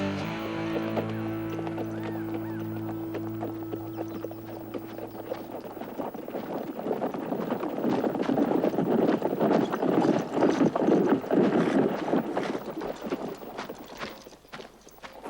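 Horse hooves clip-clop steadily at a walking pace in a Western setting, starting softly under a low musical drone and growing louder and closer, with some wind noise and no speech.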